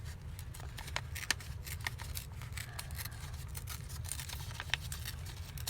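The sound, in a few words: ripping paper around an image cut from a bank envelope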